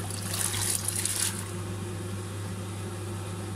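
Water poured into a pot of soaking beans for a third change of water, a short bright splashing pour lasting about a second over a steady kitchen hum, then quiet.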